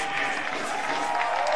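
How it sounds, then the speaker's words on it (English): A stadium crowd claps and cheers for captain Juan Hernandez at a CFC vs Maryland Bobcats soccer match, a steady, even wash of applause lasting throughout. "Big round of applause for Juan Hernandez"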